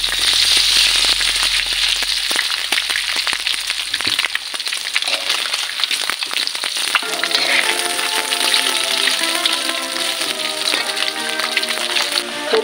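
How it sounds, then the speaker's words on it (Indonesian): Pieces of tuna (ikan tongkol) frying in hot oil give a loud, steady, dense sizzle with crackling pops that continues without a break and with no voices. "Minyaknya udah panas, kita masukkan ikannya."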